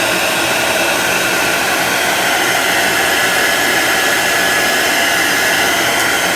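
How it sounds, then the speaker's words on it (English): A heat tool or hair dryer dries paint on a pillow cover, giving a loud, constant airy roar that stays close and unbroken throughout, with no voices. "Normally I would dry them like I am now with my heat tool or my hair dryer"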